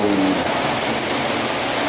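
Heavy rain with gusting wind lashes down steadily during Typhoon Pablo in Dipolog, a dense, continuous roar of downpour close by with no voices.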